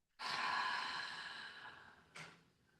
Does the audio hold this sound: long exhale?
yes